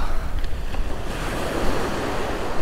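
Ocean surf rolls in near the mouth of a saltwater creek, a steady broadband wash of breaking waves with some wind buffeting the microphone throughout, no talking.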